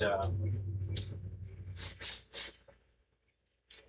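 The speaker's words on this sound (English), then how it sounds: "I'm not going to spray on my desk because it's going to get overspray all over this area" Several short hissing bursts from an aerosol spray can lay clear coat onto a carbon fiber part for a Ferrari F50. The sprays sound close and come in quick succession, after a stretch of low hum and faint voice at the start.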